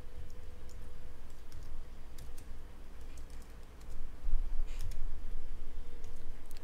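Keys tapped on a computer keyboard while a game server is being set up, light irregular clicks close by over a low steady hum, with no talk.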